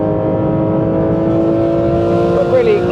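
A Porsche 911 GT3 RS Manthey (992) with a 500-horsepower flat-six that revs to 9,000 rpm, holding a steady high-pitched engine note close by, rising slightly near the end, with someone talking over it.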